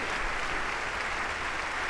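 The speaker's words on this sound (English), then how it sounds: "Are they going to clap like Bon Jovi fans after everything he says?" Steady applause from the audience in the chamber during the 2015 State of the Union Address, a dense, even wash of clapping held at a constant level without any voices.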